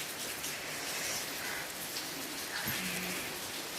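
Steady rain falls on a village house in India, a dense even hiss of drops on surfaces continuing throughout with no talking.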